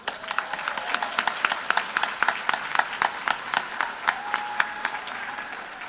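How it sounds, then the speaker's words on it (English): Sparse, rhythmic clapping at a Latina History Day luncheon, a modest audience applauding sponsors with distinct individual claps repeating steadily, moderately close and without talk. "round of applause."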